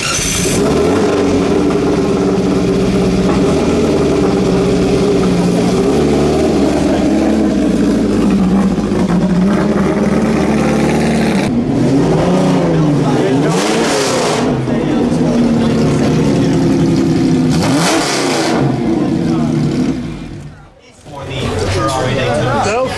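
A modified Ferrari with a 1000cc engine revs loudly and continuously at a concours event, its engine note rising and falling with sharp bursts of throttle, under a steady crowd and talk backdrop.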